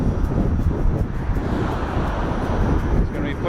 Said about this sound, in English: we have an advancing cold front coming in, so we are dealing with some significant wind.